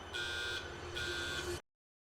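In the submarine of the horror video game Eclipsium, an electronic alarm sounds two long, shrill pulses separated by a short gap, over a low rumble, then cuts off to silence.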